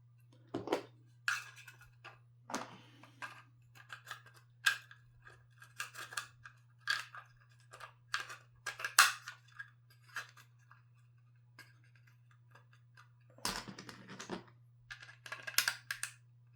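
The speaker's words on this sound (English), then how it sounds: "Snap it in, snug, lock." Plastic pieces of a Modi Boxi dice tower snap and click into place in a quick series of sharp, close taps, with a pause before a final cluster of snaps, over a steady low hum.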